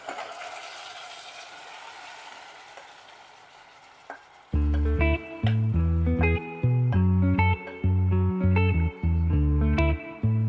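Chicken pieces sizzle and fry in a pan for chicken adobo with coconut milk, first a steady hiss, then repeated loud scraping stirs in a regular rhythm, close and with no talk.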